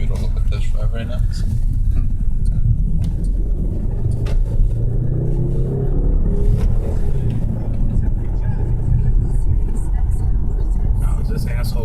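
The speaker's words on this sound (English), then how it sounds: "I'm actually in the middle of a test drive right now." An Audi car drives on a test drive, with a low engine and road rumble rolling steadily from inside the cabin while a voice talks over it.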